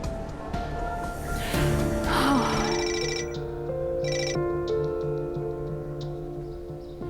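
A phone ringing during a romantic drama scene, a repeated electronic ringtone melody with distinct tonal bursts, preceded by a brief gasp-like breath and a rising swell of background music.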